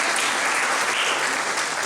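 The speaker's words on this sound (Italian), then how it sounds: "Vi chiedo un ultimo applauso per lui" A thick, even wash of applause from the audience at the Premio Giorgione 2024 award ceremony's final evening, loud and unbroken throughout.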